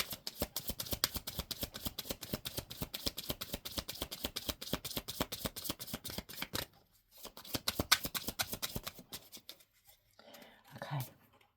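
A deck of tarot cards is shuffled rapidly at close range, a dense run of crisp riffling flicks that stops briefly and then resumes before ending in quieter handling, with soft speech near the finish.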